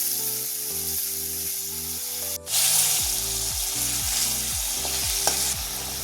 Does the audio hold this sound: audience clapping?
no